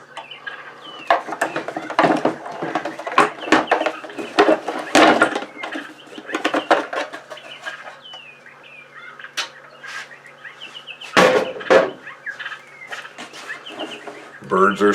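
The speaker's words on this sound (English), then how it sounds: "Birds are sure singing up a storm today." Chickens and a rooster clucking and calling amid other birds in the background while a fan housing is being repaired, with intermittent knocks and work noises and a voice speaking over parts of it.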